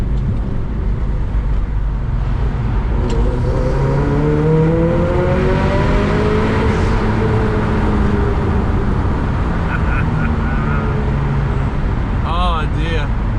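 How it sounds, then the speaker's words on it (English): Car engine fitted with a turbo pod air filter revs and pulls with a steady induction roar and rising engine tones, heard from inside the cabin beneath occasional talk. "Get a bit of induction noise in here."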